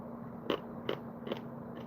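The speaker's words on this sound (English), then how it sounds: "Crunch, crunch, crunch." Crunchy food is chewed close to the microphone, with four distinct crisp bites spaced about every half second over a faint steady background hum.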